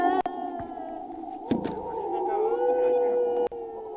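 Dogs howling at night give a sustained, wavering howl that runs through the whole stretch, with a brief clatter partway in.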